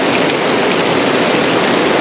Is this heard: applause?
no